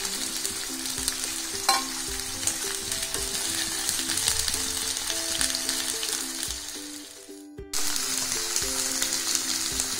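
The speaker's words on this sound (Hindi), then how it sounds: "अभी हमारा पनीर अच्छे से फ्राई हो चुका है" Paneer frying in a pan with steady, loud crackling sizzle throughout, broken by a brief near-silent pause before the sizzling resumes; faint clinks of stirring sound over it.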